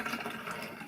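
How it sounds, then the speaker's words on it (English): Boiling water poured over the top of a porchetta to scald it, a brief continuous rushing splash, close and fairly loud, heard on its own. "I'm going to scald the top of this with this boiling water"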